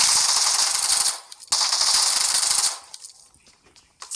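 Two long bursts of rapid automatic gunfire in a video game, loud and close, separated by a short gap, followed by faint scattered clicks and quiet.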